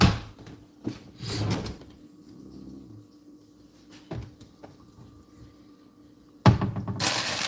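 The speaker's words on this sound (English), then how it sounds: "I just clean this drawer out and put my silverware and stuff in there." A kitchen drawer holding silverware is opened and shut with a few close wooden knocks and slides, some separated by quiet gaps, and a louder rattling clatter comes near the end.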